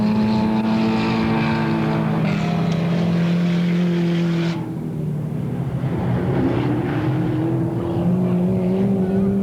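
Race cars, including a Ford Escort, roar around Alwalton Raceway, engines droning loudly and continuously with rising and falling pitch as they corner and accelerate, with a commentator's voice over them.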